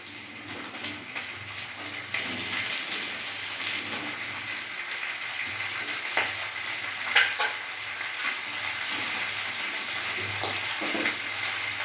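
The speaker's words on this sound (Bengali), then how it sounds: "পেঁয়াজটা আমার ভালোভাবে ভাজা হয়ে গেছে লাল লাল হয়ে গেছে এবার এর মধ্যে আমি কাটা ধোয়া চিকেনগুলো আমি দিয়ে দেবো" Cut chicken pieces frying among browned onions in a pan, a steady crackling sizzle punctuated by scraping stirs and occasional knocks of the spoon, close and clear with no talking.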